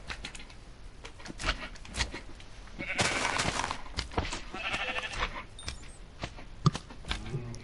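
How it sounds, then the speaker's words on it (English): A sheep bleats in Minecraft, with short wavering calls over clicking game sounds and other game noises, a fairly close sound that is not very loud. "I found a sheep."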